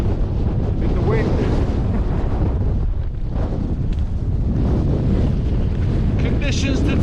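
Strong gusty wind roars across a Welsh mountain summit by a trig point in rain, buffeting the microphone continuously with heavy low rumble and rushing surges throughout.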